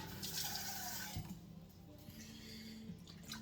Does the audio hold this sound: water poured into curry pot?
yes